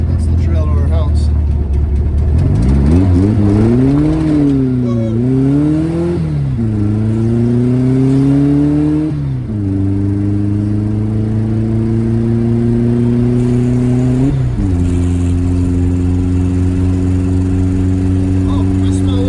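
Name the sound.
Volkswagen Beetle engine driving on road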